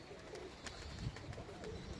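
A pigeon coos softly near a loft, a few low murmuring calls at moderate distance over faint outdoor background noise, with no talk.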